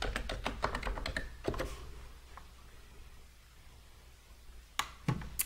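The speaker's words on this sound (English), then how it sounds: "then you type in your username and password" Rapid typing on a computer keyboard entering a username and password, a dense run of crisp key taps that thins out, then a few final keystrokes after a pause, close and clear with no talking.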